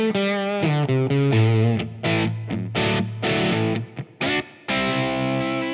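An electric guitar played through a Helix Mandarin Rocker amp model with plate reverb rings out in loud, saturated, distorted chords and sustained notes, alone and up close.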